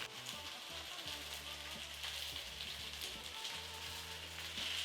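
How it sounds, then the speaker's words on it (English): Sirloin tip beef strips sizzling in a hot wok for a beef and broccoli stir fry, a close, steady hiss with light crackle, continuous with no talking. "Straight away add the beef. Pull the beef to the edges of this wok."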